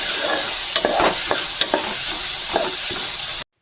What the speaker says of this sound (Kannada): ಲಾಸ್ಟಲ್ಲಿ ನಾವು ತೆಂಗಿನಕಾಯಿ ಹಾಕ್ಕೊಂಡು ಒಂದ್ಸರಿ ಫ್ರೈ ಮಾಡ್ಕೋಬೇಕಷ್ಟೆ.